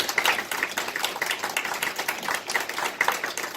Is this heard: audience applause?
yes